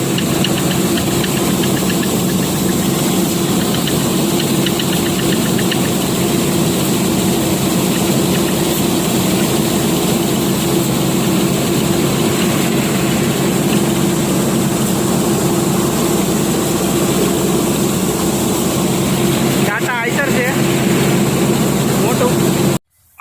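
A steady, heavy truck engine drone runs throughout at constant loudness, low and rumbling, with a brief shift near the end before it cuts off.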